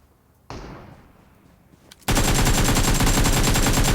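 7.62 rifle fire in PUBG Mobile: a single sharp shot, then a loud, dense burst of rapid automatic gunfire that runs without a break to the end.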